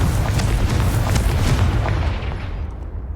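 The Confringo explosive spell from Hogwarts Legacy blasts with a loud, rumbling boom and a dense, crackling roar that holds steady and then trails off slightly at the end.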